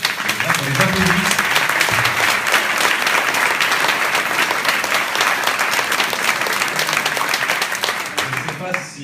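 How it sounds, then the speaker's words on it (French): Loud, sustained applause from a crowd at a town hall solidarity gathering, dense and continuous throughout, with voices mixed in beneath the clapping. "Et là, on les applaudit."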